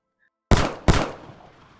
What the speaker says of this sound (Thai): เสียงปืนระเบิดขึ้นสองนัดซ้อน